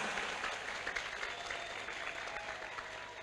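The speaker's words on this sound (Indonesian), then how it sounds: "Tepuk tangan untuk kalian semua." An audience at a school Halal Bihalal gathering claps in a sustained round of applause, with a faint crowd murmur underneath.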